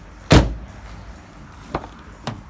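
The rear door of a 2008 Peugeot 308 1.6 S five-door hatchback is opened with one sharp, loud latch thunk, followed by two softer clicks of the handle and door as it moves, heard up close with no voices.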